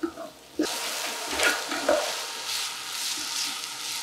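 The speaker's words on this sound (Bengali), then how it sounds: "ঘিয়ের জন্য আরো অ্যারোমাটা সুন্দরভাবে আমরা কিছুক্ষণ সবজিটা ভেজে নেব" Vegetables frying in ghee for a yogurt ghee khichuri, a soft sizzle that starts abruptly and continues with occasional stirring clatter, moderately quiet and close, no voices.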